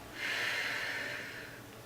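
A steady, breathy exhalation during a Pilates stabilising movement, a soft airy rush that swells quickly and holds for over a second before easing off, close and alone with no talk.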